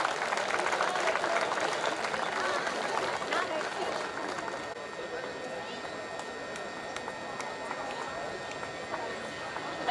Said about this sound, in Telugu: ఒకసారి క్లాప్స్ కొట్టండి సార్ అందరూ మీ కరతాళ ధ్వనులతో